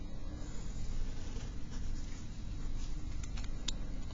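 Pencil or pen sketching a graph of a rational function by hand on paper, a steady soft scratching that runs continuously at close range, with a few brighter strokes near the end and no talking.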